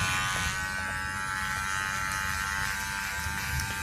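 Electric hair clippers cutting hair at the neckline, a steady loud close buzzing hum that runs unbroken throughout with no talking.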